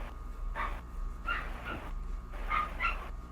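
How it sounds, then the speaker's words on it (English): A dog barks and whimpers indoors in short, high yips and whines, several bursts spaced about a second apart, moderately close but not loud. "The dog's trying to give their opinion too"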